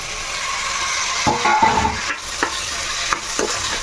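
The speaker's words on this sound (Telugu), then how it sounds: "ఇప్పుడు నేను మూడు టమాటాలు ఇలా కట్ చేసుకున్నాను పెద్ద సైజువి ఇవి కూడా వేసుకుంటున్నా" Large chopped tomatoes tipped into a hot frying pan for paneer pulao, giving a soft sizzle with clattering stirring and scraping knocks against the pan.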